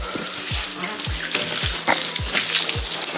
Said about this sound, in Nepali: भाइले पानी हान्दैछ